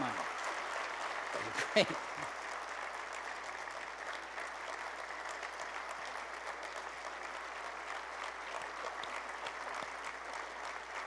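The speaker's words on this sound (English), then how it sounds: "A round of applause they can actually hear now, if you don't mind." Audience clapping at a live hypnosis stage show, a steady sustained round of applause from a crowd filling the room, with a brief spoken word near the start.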